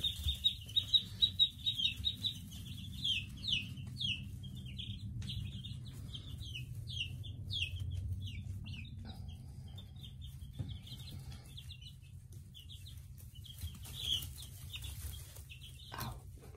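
Nine-day-old chicks and ducklings give faint, rapid high peeps and chirps in a steady scattered chorus over a low background rumble, with a few louder thumps early on.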